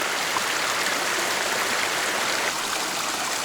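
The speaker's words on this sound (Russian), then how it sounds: "Первый брод." A mountain stream at a river ford rushes in a loud, continuous broadband wash of flowing water, close and unbroken for several seconds, with no voices over it.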